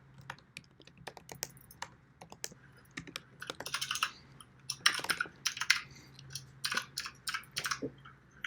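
Quiet clicking keystrokes on a computer keyboard arrive in irregular bursts, with faster clusters in the middle and a faint steady hum underneath, no voices heard.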